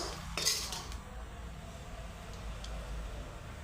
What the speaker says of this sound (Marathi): आपण आता याला प्लेटमध्ये काढून घेऊया